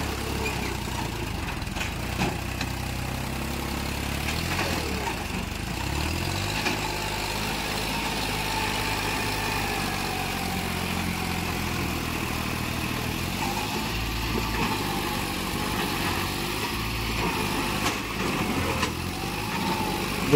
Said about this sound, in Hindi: देखो भाई वो ट्रैक्टर ताकत तो बहुत कर रहा है